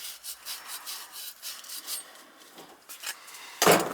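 Pipe being cut during repair of an outdoor faucet that will not shut off, a soft rhythmic rasping of repeated strokes up close, ending with a sharper louder scrape.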